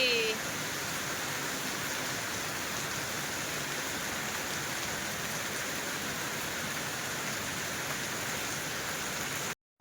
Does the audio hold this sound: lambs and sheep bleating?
no